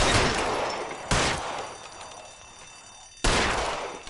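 Gunfire in the video game LA Noire: three loud, sharp shots spaced about a second or two apart, each trailing off in a long echoing decay.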